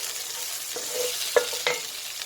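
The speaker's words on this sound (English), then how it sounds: "So back over to the fry pan, and now it's time to add in the can of drained butter beans." Drained, rinsed butter beans frying in a fry pan, a steady soft sizzle with a few sharp clinks and scrapes of stirring, close and fairly quiet, no talking.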